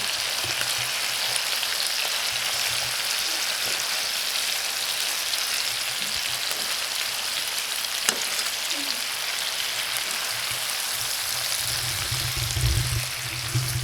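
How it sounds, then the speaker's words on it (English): Honey sriracha chicken sears in a hot pan, a loud, dense, unbroken sizzle like heavy rain that holds for the whole stretch, with a brief low rumble near the end. "I'm going to flip it over and let it get a good sear"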